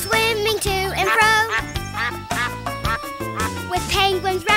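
Duck quacking during a children's sing-along zoo song, repeated quack-like calls woven into loud music with singing throughout.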